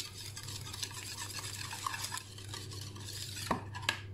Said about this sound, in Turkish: Bunu çok azıcık çırpayım